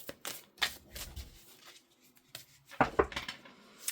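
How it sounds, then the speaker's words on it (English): Oracle cards are shuffled and pulled by hand, crisp papery riffles and slaps in quick irregular bursts, close and fairly quiet with no talking. "I'll pull a couple oracle cards."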